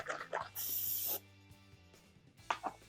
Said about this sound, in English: Get the spray in some white.